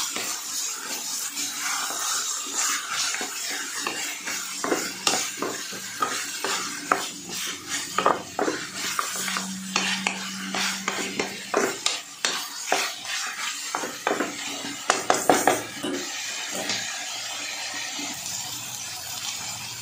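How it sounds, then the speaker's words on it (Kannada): Mutton for mutton chops frying in a pan, a constant sizzle broken by repeated loud clanks and scrapes of a metal spoon against the pot. The clatter grows busier toward the end. "ಮಟನ್ ಚೆನ್ನಾಗಿ ಫ್ರೈ ಆಗ್ತಾ ಇದೆ"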